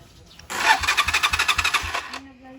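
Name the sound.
Motorstar 125 motorcycle electric starter cranking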